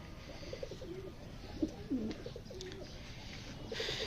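Pet pigeons coo softly in a few low, rolling calls against quiet background hiss, faint and somewhat distant, with no talking.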